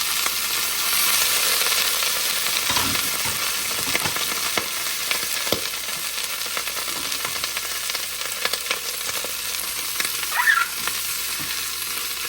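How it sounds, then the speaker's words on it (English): Onions hit a hot pan for soup and set off a loud, continuous close sizzle, with occasional scrapes and clicks as they are moved around. "Throwing those onions in."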